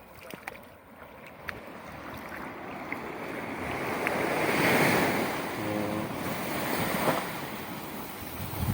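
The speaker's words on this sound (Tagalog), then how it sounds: "Ganda ng ano, hunin ng alon." Ocean surf rolls and washes steadily along a beach at 7:30, broad and continuous with gusts of wind noise on the microphone and voices faintly in the background.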